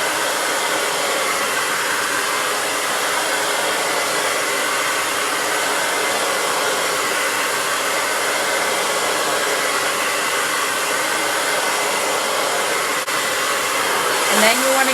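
A handheld hair dryer blows continuously at close range during a silk press blowout on natural hair, a steady, loud whooshing rush of air with a brief change near the end.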